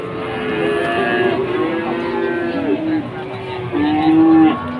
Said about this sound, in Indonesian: Dua ekor sapi-sapi bakalan kondang-kondang.